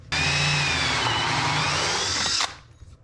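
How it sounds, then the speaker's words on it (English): A power drill bores a 2-inch hole into boat fiberglass, a loud, steady whining drone that starts abruptly, holds for over two seconds and then cuts off and winds down. "I'm drilling a 2-inch hole"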